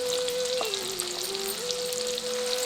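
Shallots, fennel seeds, cinnamon and dried red chillies fry in oil, giving a steady, loud, even sizzle that runs without pause and carries a faint continuous tone over it.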